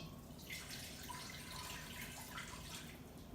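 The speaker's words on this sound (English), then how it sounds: "then we're going to add about a cup of water." About a cup of water poured into an Instant Pot, a soft continuous splashing trickle at moderate level that runs steadily for a few seconds.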